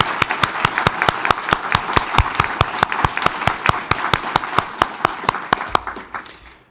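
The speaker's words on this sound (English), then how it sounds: "Please join me in one more round of applause to congratulate our" An audience at a university college awards ceremony gives a round of applause, with sharp claps in an even, rapid rhythm that fade out at the end.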